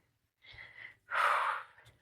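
Heavy breathing during a workout: a short breathy inhale followed by a louder, forceful exhale close to the microphone, with no words spoken.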